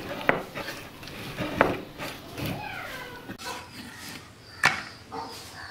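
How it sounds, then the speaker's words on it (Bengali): Beef being cut into pieces by hand in a home kitchen, giving sparse, irregular knocks and scrapes of a blade against a board, close and moderately loud with quiet gaps between strokes. "মাংসগুলো ভালোভাবে কেটে ফেলতেছে"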